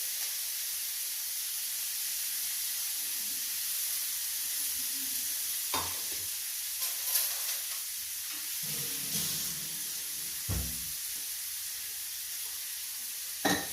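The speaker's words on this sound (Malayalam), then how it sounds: "സവാള ഇട്ട് കൊടുക്കാം ഫസ്റ്റ് കറിവേപ്പില ഇതിലൊക്കെ അങ്ങ് കിടന്നാൽ വരില്ല എന്നിട്ട് കുറച്ച് ഉപ്പ് ഇട്ട് കൊടുത്തിട്ട് ഇളക്കി കൊടുക്കും" Onions, curry leaves and salt frying in a pan for a fish dish, a steady hiss of sizzling oil running throughout with occasional clinks and scrapes of a spoon stirring.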